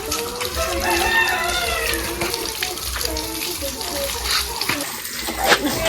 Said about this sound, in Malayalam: വെള്ളം അടിച്ചൊന്ന് കഴുകിയെടുത്താൽ മതി